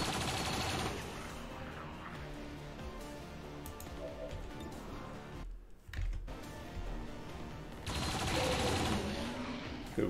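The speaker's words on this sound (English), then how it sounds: "Shoots the turret twice, then gets decimated by the other turrets" Gunfire at turrets in XCOM 2 rattles in dense bursts over a steady rumble of game noise, with a brief drop midway and a louder burst near the end.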